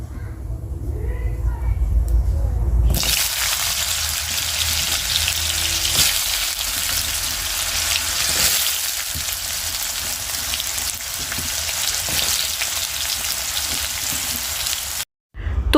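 Ash gourd fries in oil with a black cumin tempering over an outdoor fire in the open air. A loud, dense, rain-like sizzle starts a few seconds in and runs steadily, with a brief dropout near the end.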